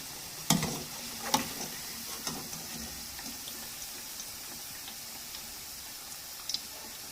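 Alu vadi frying crisp in hot oil, with a constant fine sizzle and scattered clicks and taps from a utensil, steady and close with no voices.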